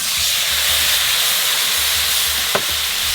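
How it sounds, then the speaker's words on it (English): Marinated mushrooms sizzle loudly and close up in reserved ribeye beef fat, a dense, continuous hiss with a brief utensil tap near the end. "we're gonna heat up some Butcher's Market marinated mushrooms in here to go with our steak"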